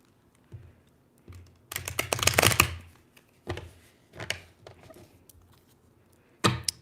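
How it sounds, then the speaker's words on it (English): Tarot cards riffle and flick in several quick bursts, one longer flurry of crisp clicks, then shorter shuffles separated by pauses, close by. "I want to shuffle the cards first because we're going to pull some tarot."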